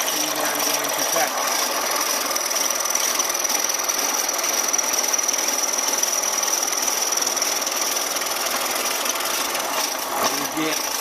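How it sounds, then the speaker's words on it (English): A power saw cuts wood while making a casserole holder, giving a continuous loud, rough buzzing whine that holds steady for most of the stretch, with a short break near the end. "I'm blowing the sawdust away from the line so I can see where I'm going to cut."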